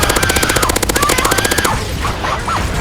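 Rapid automatic gunfire from a Gears of War shooter, loud and steady bursts for about a second and a half, then breaking off into quieter game noise.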